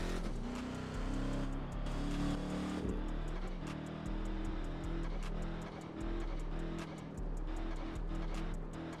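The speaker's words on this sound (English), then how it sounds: "One of the best sounding cars in TDU2 though." A loud, sustained car engine revving in the racing video game Test Drive Unlimited 2, apparently a Gumpert Apollo, with its pitch rising and falling steadily over continuous engine drone.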